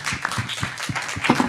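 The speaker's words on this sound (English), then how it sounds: "Please give another big round of applause for our amazing speakers tonight" A small audience at a speaker event on the future of energy, held in a venue at Görlitzer Park, gives brief, fairly sparse applause up close, with distinct individual claps and a faint voice underneath.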